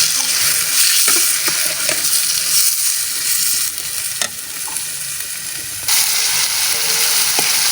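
A spice mixture with turmeric, red chili and salt stirred and fried in a pan, giving a steady loud sizzle with scraping stir strokes throughout and a brief dip partway through.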